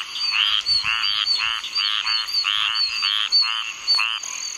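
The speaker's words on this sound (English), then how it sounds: "these toads are out calling right now here" A chorus of toads in Florida's Apalachicola National Forest calls in continuous, pulsing trills, several overlapping voices close by, with faint high-pitched chirps mixed in.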